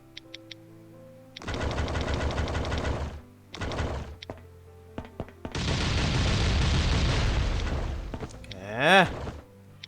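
Explosions and blasts in the survival game Last Island of Survival: several bursts of loud, dense rumbling noise separated by short gaps, the longest lasting a few seconds, ending with a rising whooshing tone.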